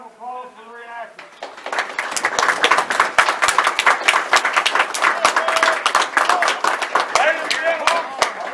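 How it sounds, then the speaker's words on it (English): Outdoor crowd applause for reenactors at a battle reenactment, starting after a brief voice and swelling into steady, dense clapping that carries on loud through the rest, with scattered voices mixed in. "a round of applause for the reenactors"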